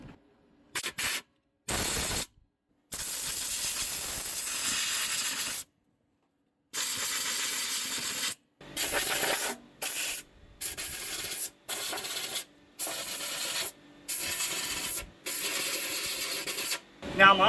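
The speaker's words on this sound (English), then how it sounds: "I've got my little air hose here. We're going to use this to try to clean some of this stuff out." Compressed air from a small hose blowing debris out of a pasture seeder, loud hissing bursts of varying length separated by short silent pauses, close to the microphone.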